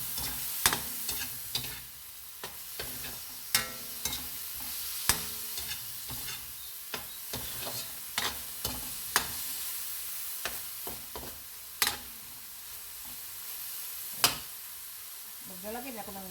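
Vegetables and blue marlin fish sauté in a pan with a constant sizzle, while a utensil stirs and scrapes the pan with repeated sharp clacks across the whole stretch.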